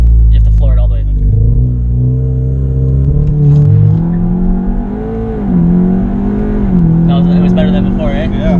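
A Stage 2 Golf R with about 400 hp launches at full throttle, its engine droning loud and close as the revs climb in a few steps through gear changes, while people talk inside the car.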